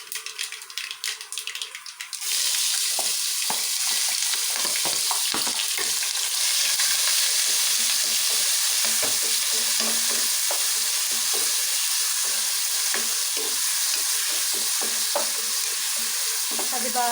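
A pounded paste of ginger, garlic and green chili fries in a pan with a loud, steady hiss that runs unbroken for many seconds, broken by occasional scraping stirs, close up with no talk.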